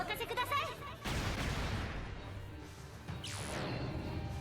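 An explosion attack in the video game Fuga: Melodies of Steel 3 bursts out as a series of sharp blasts and crashing impacts, followed by a rising whoosh, dense and loud, with a voice partly underneath.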